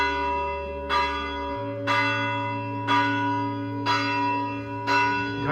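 Deep bells ring out at midnight on Christmas Eve in slow, regular strokes, about one each second, with long resonant tones lingering between strikes over a steady low hum.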